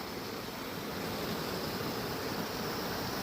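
A river in Devil's Glen, County Wicklow, partly blocked by fallen tree trunks and storm debris after winter storms, flowing with a steady broadband rush, moderately loud and continuous with no talk.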